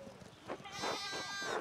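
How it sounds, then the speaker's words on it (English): Sheep bleat in the farmyard of the video game Pentiment, a quavering, drawn-out cry rising after a short quiet start and holding fairly close and clear to the end. "One of the fence rails fell and the sheep started hopping it."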